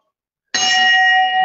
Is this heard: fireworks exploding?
no